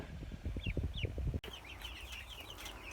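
A flock of broiler chickens, about 150 birds on a farm, clucking and murmuring steadily with a few higher calls standing out near the start, low and continuous throughout.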